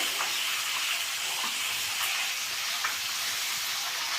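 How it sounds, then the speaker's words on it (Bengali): Fish and spices frying in a pan make a steady, moderately quiet sizzling hiss with faint scattered crackles, unbroken and with no voices. "আমার মশলাটাও ভাজা হয়ে গেছে আমার মাছটাও দুবার উল্টে দিয়ে হালকা হালকা ভাজা হয়ে গেছে"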